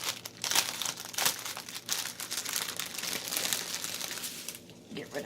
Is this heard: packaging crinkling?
yes